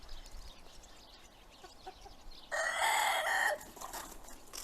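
Hens on a free-range Turkish chicken farm, with a loud burst of clucking and crowing for about a second near the middle over a quiet outdoor background.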